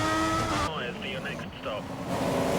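Race car engine in a racing video game at Suzuka, droning steadily as the car enters the pits, with a commentator talking over it throughout.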